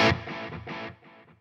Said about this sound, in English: let's choose digital delay if you want a really bright sounding delay